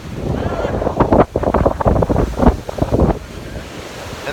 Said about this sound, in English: just wait for that wave to come up here